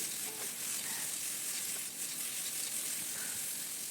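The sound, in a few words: stir-frying drumstick stems with turmeric and salt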